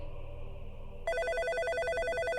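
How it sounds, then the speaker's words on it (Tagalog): A telephone bell rings in a mansion, a bright repeated electronic trill that cuts in loudly and pulses steadily after a low musical drone. "May tumatawag sa telepono."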